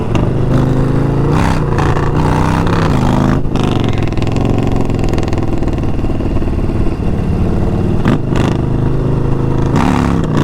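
A 2022 Harley-Davidson Low Rider ST motorcycle on a test ride roars loud and close. Its V-twin engine holds a heavy, continuous rumble, and the pitch rises and falls through revving and gear changes.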